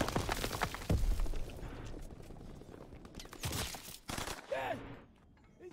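Video game gunfire in bursts: a loud volley of rapid shots near the start, then scattered louder cracks and softer distant shots with mechanical clatter.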